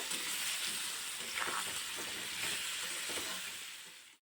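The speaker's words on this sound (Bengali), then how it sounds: "এখন কিছুক্ষণ কচুগুলোকে ভেজে নেব" Taro (mankochu) pieces with salt and turmeric frying in hot oil, giving a steady close sizzle with light stirring scrapes before it cuts off abruptly.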